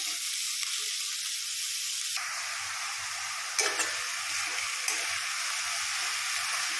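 Sliced onion sautés in hot oil for chicken biryani, a steady close sizzle hissing throughout with a louder burst partway in and faint scraping stirs underneath.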